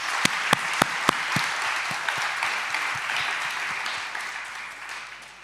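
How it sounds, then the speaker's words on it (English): An audience at a university law faculty human rights celebration gives a round of applause, opening with a few sharp, close claps before settling into sustained, even clapping that gradually tapers. "Another big round of applause,"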